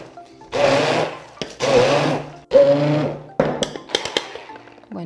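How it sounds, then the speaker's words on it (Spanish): A food processor grinds oats in three loud bursts with short pauses between, its motor whirring and rattling, followed by lighter clattering and knocking. "aquí yo la voy a moler con mi procesador"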